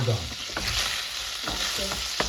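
Ginger chicken being stirred in a pan, a spoon scraping and turning the pieces in a few distinct strokes over a steady close sizzle.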